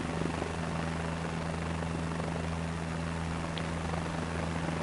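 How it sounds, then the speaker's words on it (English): A simulated aircraft engine in Microsoft Flight Simulator 2024 drones steadily and loudly, an unbroken rotor-like hum that stays constant from start to finish. "You're used to crazy engine noises."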